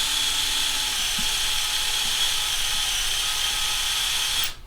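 Steady, continuous whine of a battery-powered drill boring holes into an elk mannequin, loud and unbroken for several seconds before cutting off abruptly at the end.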